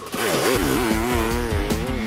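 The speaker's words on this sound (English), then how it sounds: "The pressure is on as Eric revs the bike" A motorcycle engine revs hard and continuously, its pitch rising and wavering as the throttle is worked, loud and close throughout, beside a lake.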